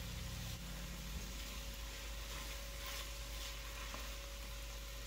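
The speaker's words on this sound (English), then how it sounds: "But we need to melt this butter." Grass-fed, grass-finished butter melting in hot oil on the stove for a roux gives a steady, soft sizzle, with a low constant hum under it and no talking.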